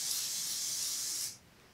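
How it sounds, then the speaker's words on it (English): A Patrick Ta Major Glow highlighting mist is sprayed in one continuous hissing burst lasting just over a second, close and loud, then cut off sharply, leaving quiet room tone. "And then I'll just spray it."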